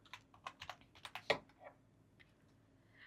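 Rapid clatter of keystrokes on a computer keyboard while an accounting entry is entered, a dense burst of close taps at first that thins to a few scattered presses.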